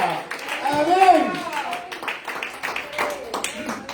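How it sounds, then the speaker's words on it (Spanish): A church congregation claps hands in rhythm while a voice speaks loudly over the steady patter of palms. "Fuerte las palmas al Cristo de la gloria"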